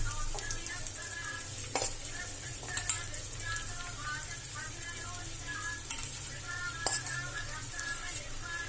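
Poha tempering frying in a pan while a spoon stirs it, with soft, steady sizzling and occasional sharp scrapes and clinks of metal on the pan, close up with no talking.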